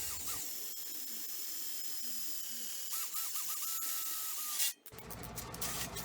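Drill boring holes to bolt down a Bosch TS2000 table saw stand, a high, steady whine from a nearby motor that cuts out abruptly before rustling handling noises follow.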